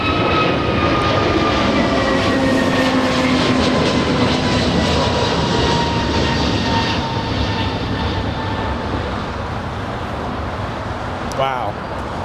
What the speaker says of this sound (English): It's an A321neo. It's racing down the runway. In fact, it's lifting off right now.